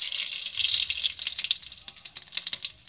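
Mustard seeds hit hot oil in a pan, starting with a bright hiss that settles into scattered quick pops and crackles.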